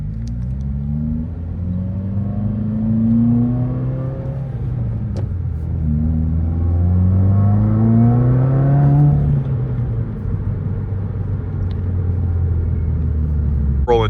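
2021 Subaru WRX engine accelerating, rolling on from second gear around 40 mph, with a loud steady rumbling drone that rises in pitch across repeated revving sweeps, heard from inside the car with no talk.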